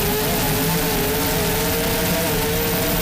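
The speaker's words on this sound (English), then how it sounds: "powered by twin Mercury Super Cat engines with Mercury number 6 drive" Racing powerboat driven by twin Mercury Super Cat engines with a Mercury number 6 drive, a loud, sustained engine drone with steady harmonic tones holding throughout.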